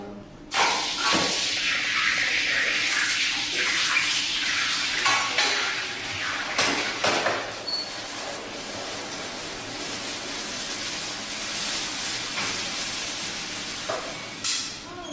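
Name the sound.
hot poured gold hissing as it is quenched in a tub of water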